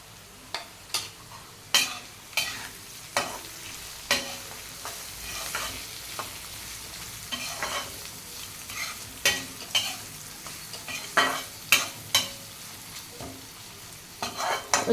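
Vegetables fry with turmeric in an oily pan, a steady sizzle broken by repeated sharp scrapes and clatters of a spoon stirring, close and continuous with no talk.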